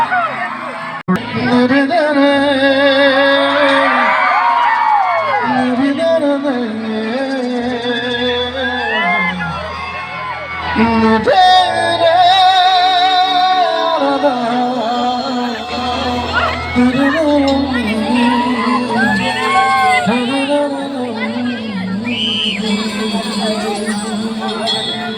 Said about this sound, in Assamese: এবাৰ অসম আৰক্ষীৰ কাৰণে ডাঙৰকৈ হাত চাপৰি এটা হ'লে খুব ভাল পাম